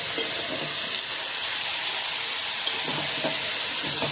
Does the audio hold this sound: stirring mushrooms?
yes